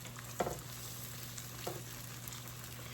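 Salmon croquettes browning in a pan give off a steady, even sizzle close by, with two or three soft clinks or stirring touches over it and no voices.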